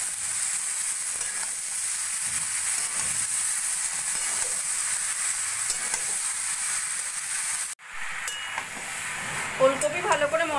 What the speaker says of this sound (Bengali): ওলকপি ভালো করে মশলার সঙ্গে মিশিয়ে নিয়ে কিছুক্ষণ এইভাবে কষিয়ে নেব।